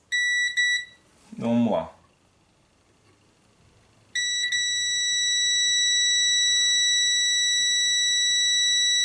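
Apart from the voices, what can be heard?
multimeter beeping while measuring a circuit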